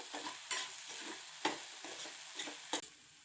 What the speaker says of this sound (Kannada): ಇವಾಗ ಶುಂಠಿ ಬೆಳ್ಳುಳ್ಳಿ ಪೇಸ್ಟ್ ಹಾಕೋತಿದ್ದೀನಿ.